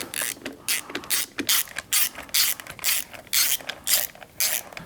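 Ratchet tightening bolts on a Honda Goldwing GL1800 motorcycle engine, a series of about a dozen rapid clicking bursts in a steady back-and-forth rhythm, close and crisp, with no talk.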